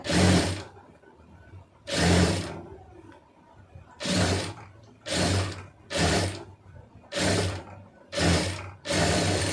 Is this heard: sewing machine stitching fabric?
yes